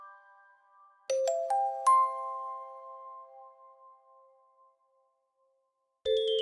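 A bright notification bell chimes several times in quick succession, its ringing tones layering and sustaining before slowly fading into silence, followed by a fresh ding near the end.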